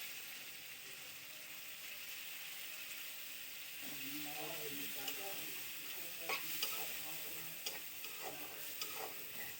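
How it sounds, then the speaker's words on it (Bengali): Prawns fry with a soft, steady sizzle in a pan, and from about four seconds a utensil stirs them, adding scraping strokes and occasional clinks. "চিংড়ি মাছগুলো দিয়ে দিচ্ছি।"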